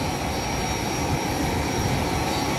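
Jet engine drone fills an airliner cabin, a loud, steady, unbroken roar with a thin high whine on top and no speech.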